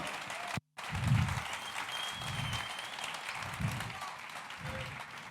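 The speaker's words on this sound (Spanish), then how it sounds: "Dale fuerte el aplauso al Señor" Congregation applauding in a church service, a steady wash of clapping with a brief dropout near the start and low rhythmic thumps pulsing underneath.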